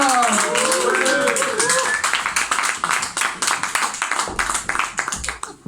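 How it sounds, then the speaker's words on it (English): An audience claps to welcome a speaker to the stage, the applause starting dense and loud over a voice and then thinning into scattered, uneven claps. "Into a proper clap as a welcome to the stage, our new Prime Minister, Mr. Boris Johnson!"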